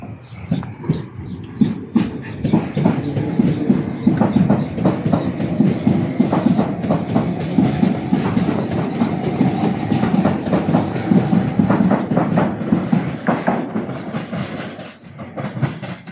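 A class 305 train arrives at Dover Priory station, with loud, close rolling wheels and rhythmic clickety-clack across the rails that lasts throughout.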